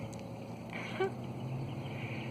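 A short duck-like quack rises once above a steady background hum, fairly faint and brief, with no voices.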